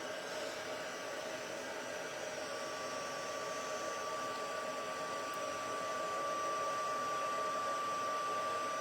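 A heat gun blowing continuously up close, a steady airy whoosh with a faint high whine that holds level throughout with no voices.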